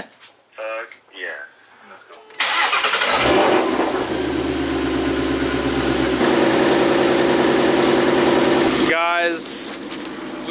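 A supercharged Ford Mustang with a rattling fault cranks and starts, then runs loudly with a steady idle and supercharger whine close by, after brief talk and before voices return at the end.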